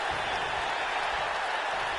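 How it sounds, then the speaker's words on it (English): A WWE 2K19 arena crowd cheers and applauds during a SmackDown Live women's match, a steady wash of hiss-like crowd noise holding at even loudness throughout. "The crowd is cheering on."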